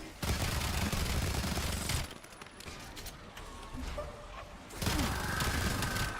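Sustained automatic gunfire from a weapon in Call of Duty: Black Ops zombies mode, loud rapid bursts that pause briefly mid-clip before resuming, with explosive cracks mixed in.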